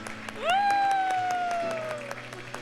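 A church congregation claps in sharp, rhythmic bursts, with a sustained held note rising over the clapping in the middle, moderately loud and spread across the room.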